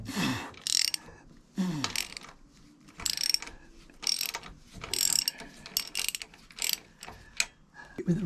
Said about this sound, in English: With a ratchet.